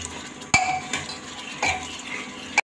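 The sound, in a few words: stirring masala for black chickpeas in a pan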